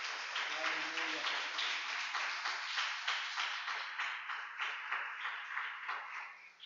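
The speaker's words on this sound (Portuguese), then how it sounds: "Você pode dar um aplauso ao Senhor Jesus Cristo de Nazaré" Church congregation applauding the Lord at a Portuguese-language worship service, a steady roar of many hands clapping for several seconds, sustained and fairly loud, with a brief low voice near the start.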